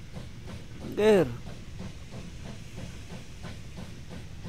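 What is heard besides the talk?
coal train moving in video game Wobbly Life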